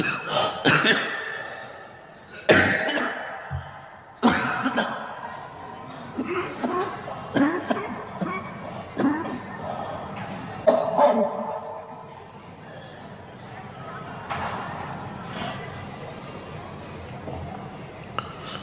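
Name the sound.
coughing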